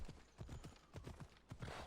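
Slow, dragging hoofbeats of a horse walking a trail in a video game, a close, steady clip-clop rhythm with no voices.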